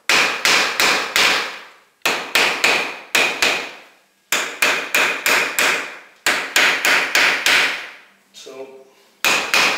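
A hammer drives nails into plaster corner bead in quick groups of three to five sharp, ringing blows separated by short pauses, loud and close; a voice briefly speaks near the end.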